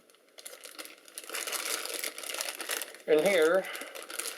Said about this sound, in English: Have a twist tie here, holding on all the stuff in the standard baggie.